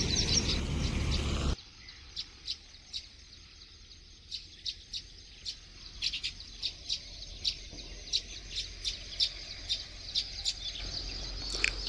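Small birds weaving their nests in the morning give sharp, repeated chirps spread across the scene at moderate distance, over a quiet outdoor background.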